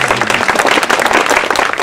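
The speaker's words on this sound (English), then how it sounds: "We can clap them each, yes." Audience applause fills a reception at Stanford Memorial Church, a loud, dense burst of many hands clapping close by, steady for a couple of seconds.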